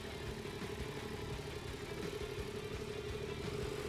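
A motorcycle engine runs at a steady idle during a low-speed riding exercise around cones on a training course, with an even, continuous drone that stays close and fairly loud throughout.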